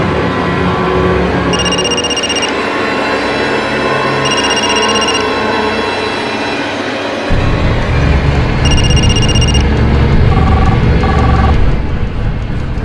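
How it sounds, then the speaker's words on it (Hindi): A telephone rings again and again without being picked up during a tense crime drama, bursts of loud electronic trilling repeating in a regular pattern over steady background noise. "ये फोन क्यों नहीं उठा रही है?"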